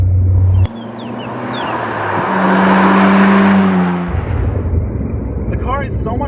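A Nissan Skyline GT-R engine revs and pulls steadily, droning louder midway then easing off, close and loud from inside the car, with faint voice-like sounds.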